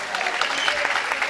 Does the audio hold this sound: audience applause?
yes